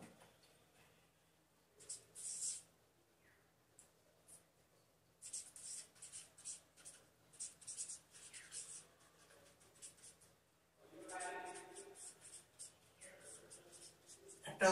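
Pen or marker scratches across a writing surface in several bursts of handwriting separated by pauses, close and fairly quiet, while sequence alignment methods are being explained; a faint low hum sits underneath.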